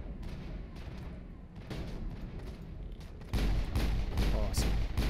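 Gunfire from the sci-fi shooter video game Mass Effect, a dense rumbling stream of shots and thuds during a firefight that grows louder and heavier partway through, with some voice in the background.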